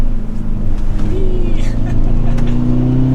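Engine of a 2022 Hyundai Veloster N with six-speed manual pulls steadily along a mountain road, a loud droning cabin hum rising slightly in pitch, heard from inside the car with a voice talking over it.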